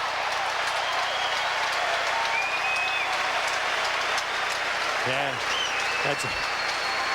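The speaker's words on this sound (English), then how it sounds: "21-time Grand Slam winner applauds." Crowd applause at the 2002 US Open quarterfinal between Agassi and Mirnyi, a steady broad wash of clapping throughout, with a commentator's voice briefly over it.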